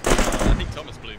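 Heavy explosive booms and gunfire in Arma 3, a loud dense burst of low rumbling impacts that swells then slowly tapers off, with some voice chatter mixed underneath.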